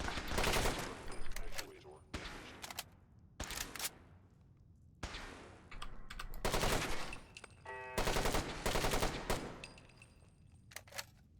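Enemy gunfire in modded Fallout 4 rattles out in loud, sharp bursts of rapid shots, several volleys separated by brief lulls, with a player's voice occasionally heard between them.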